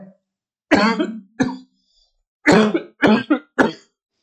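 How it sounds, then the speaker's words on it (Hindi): A person coughs about five times in short, harsh bursts with pauses between them, close to the microphone. "बताओ इतनी खांसी क्यों चल रही है"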